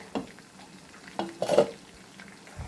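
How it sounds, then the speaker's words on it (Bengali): Chicken pieces shallow-frying in a pan give a soft, steady sizzle, broken by a few clinks and scrapes of a utensil turning them, with one louder scrape near the middle. "এক পিঠে ভাজা হয়ে গেছে চিকেনগুলো অপর পিঠে ভাজা হচ্ছে"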